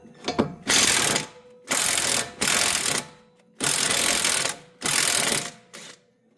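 A battery-powered impact gun with weak batteries hammers bolts loose in five loud close bursts, each about a second long, separated by brief silences.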